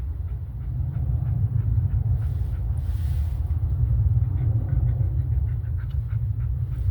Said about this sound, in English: planes landing and taking off from Love Field, we'll hear them.